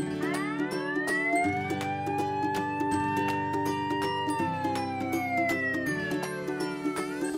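Fire engine siren wailing loudly and continuously, a rising and falling electronic tone layered over a steady horn-like drone, with sharp rhythmic clicks throughout.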